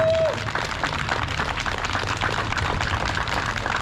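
A concert audience applauds a military academy orchestra with dense, continuous clapping that fills the whole clip at a strong, steady level, with faint crowd noise mixed in.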